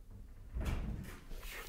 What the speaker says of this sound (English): Door just opened.